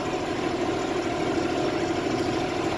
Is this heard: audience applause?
no